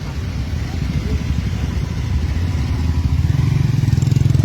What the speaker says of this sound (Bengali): দেখতে পাচ্ছেন হাজার হাজার বাইকের সমাগম প্রতিবাদী র্যালিতে